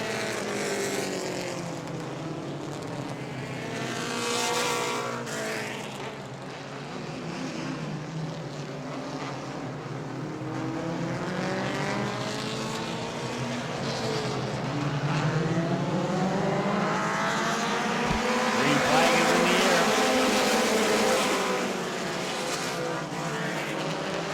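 Sprint cars roar around a track at the Auburndale Southern Sprint Car Shootout, loud, continuous high-revving engines rising and falling as the pack passes, with overlapping engine notes sweeping by.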